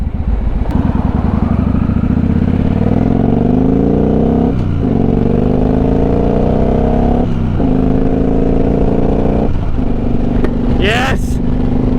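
A motorcycle riding through traffic revs up close and loud, climbing through gears in repeated rising engine sweeps broken by brief shift pauses, with wind rush and a voice talking over it.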